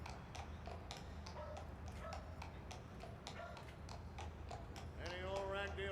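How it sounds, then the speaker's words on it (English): The hooves of a white horse clip-clop in a steady, even rhythm under a narrator's storytelling voice in a children's short film, fairly close, with a voice rising over it near the end. "He rode through the kingdom every day on a beautiful white horse."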